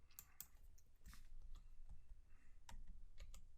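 Quick bursts of computer keyboard typing at a desk while entering a spreadsheet formula, with close, crisp key clicks in uneven clusters and short pauses between them.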